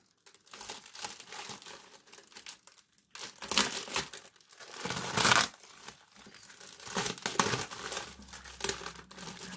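Close, crinkly rustling and tearing of the thin plastic bag wrapped around a magazine as it is ripped open from the back, in irregular loud bursts with brief pauses.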